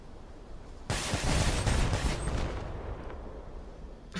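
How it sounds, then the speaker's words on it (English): A barrage of 36 rockets fires from a vehicle in the Crossout video game, a sudden loud roaring whoosh of overlapping launches that holds for about two seconds and then thins into a rumbling tail, with no talk. "These friggin' missiles can do a lot of damage"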